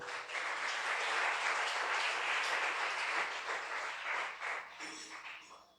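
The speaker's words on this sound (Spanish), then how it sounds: "Denle un fuerte aplauso al Rey." A church congregation at a Spanish-language service breaks into strong, sustained applause, a dense wash of many hands clapping steadily for several seconds before easing slightly at the end.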